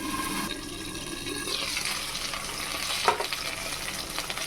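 Okra (bhindi) dropped into hot oil and frying, a loud watery hiss that swells after a brief lull and stays dense, with a clatter of stirring or movement midway.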